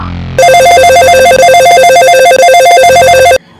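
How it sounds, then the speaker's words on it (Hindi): An old-style telephone bell rings loudly and continuously for about three seconds, a rapid trilling ring that stops abruptly. "उस रात फोन फिर बजा।"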